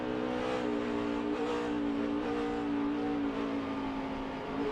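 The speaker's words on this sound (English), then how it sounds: "He's on the brake, and he's just blipping the throttle as he's downshifting all at the same time." A NASCAR Cup race car at Sonoma Raceway, close and loud, its engine droning steadily as the driver brakes and blips the throttle while downshifting into a corner.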